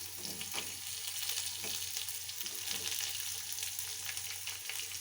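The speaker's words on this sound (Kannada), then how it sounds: "ಇದು ಸ್ವಲ್ಪ ಚೆನ್ನಾಗಿ ಫ್ರೈ ಆಗಲಿ." Onion fries in a pan for a potato and chickpea sambar, a continuous loud close sizzle and crackle with faint stirring throughout.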